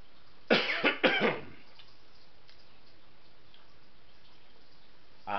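A person coughs two or three times in quick succession, close and fairly loud, followed by quiet background and a brief faint sound near the end.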